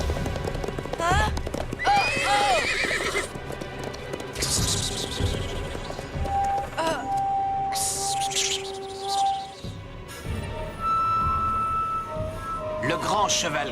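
A great grey horse whinnies and gallops in a Yakari cartoon, hoofbeats and neighs mixing with chirping birds, musical tones and characters talking throughout.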